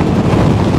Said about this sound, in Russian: Ветер просто сегодня сносит с ног.